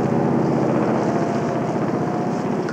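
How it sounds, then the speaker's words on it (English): A helicopter roars overhead, a loud, steady, dense rotor and engine drone that fills the whole stretch without a break. "So not even planes, there are choppers."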